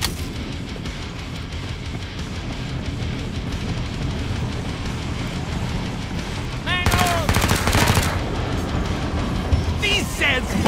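Gunfire in Killing Floor 2 aboard an airship, a continuous rattling stream of rapid shots with sharper bursts and clinks later on, loud and dense, with a voice talking over parts of it.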